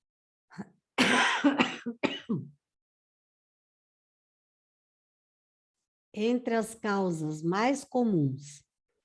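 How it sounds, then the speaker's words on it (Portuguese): Two bursts of loud coughing close to the microphone, the first a quick run of harsh coughs, the second mixed with rough, voiced throat sounds. "É horrível a gente tossir no microfone"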